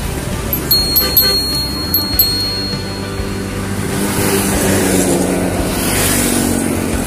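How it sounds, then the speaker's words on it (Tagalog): Road traffic in Manila heard from a bicycle: a steady car and engine drone, loud and close, with passing vehicles and a few high whines early on, and no talk. "Traffic."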